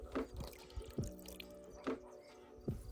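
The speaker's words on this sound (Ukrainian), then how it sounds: "Тепер додаємо соєвий соус." Soy sauce poured from a bottle onto meat chunks for shashlik, heard as a few separate wet glugs and splashes at close range with short pauses between them, and nobody talking.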